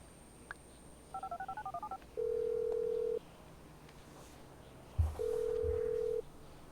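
Touch-tone keypad beeps in Grand Theft Auto V, a quick run of about eight dialing tones followed by two long, steady ringback tones with a soft thump between them.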